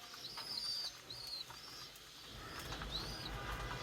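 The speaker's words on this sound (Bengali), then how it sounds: "এটাও ক্লাবের কবুতর, দুইটাই ডিমে বসা।" Club pigeons sitting on eggs give soft cooing calls in a few short phrases, fairly close, over a steady low background hum with no talk.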